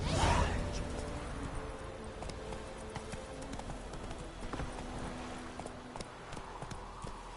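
Geralt's horse Roach trotting in The Witcher 3, a steady run of close hoof clip-clops with faint game ambience behind.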